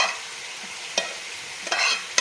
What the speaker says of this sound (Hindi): ये सारी प्याज हमने डाल दी